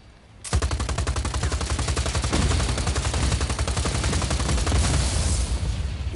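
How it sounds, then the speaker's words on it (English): Sustained, rapid automatic gunfire in Just Cause 4 hammers at a generator, starting abruptly after a brief quiet moment and continuing loud and dense in a steady rattling stream for about six seconds. "And now I guess I shoot it in the guts."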